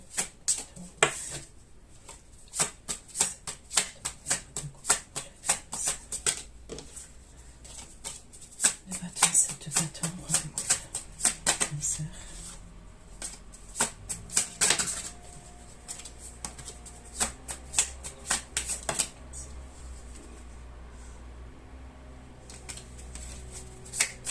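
Tarot cards are shuffled steadily for over twenty seconds, a dense run of quick papery riffles and flicks with occasional sharper snaps, close up, under occasional soft speech.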